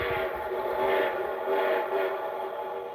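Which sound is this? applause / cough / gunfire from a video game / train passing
train passing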